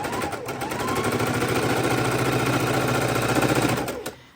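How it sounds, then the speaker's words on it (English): A sewing machine stitches pieces of quilt fabric, right sides together, for half-square triangles. It runs with a steady, rapid mechanical chatter at close range for about four seconds, then slows and stops. "Again, I am sewing on the wrong sides, right sides together."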